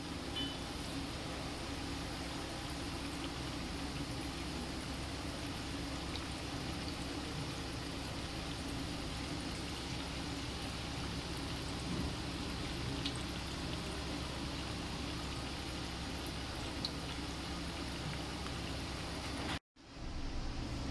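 Chakli frying in hot oil over lowered, medium gas heat, a steady, even sizzle and bubbling that continues without a break before a brief cut near the end.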